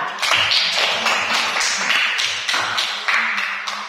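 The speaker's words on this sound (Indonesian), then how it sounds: "Tepuk tangan untuk si Ica" A classroom of students applauds a classmate named Ica, a steady wash of many hands clapping together for a few seconds, close and busy, with no talking.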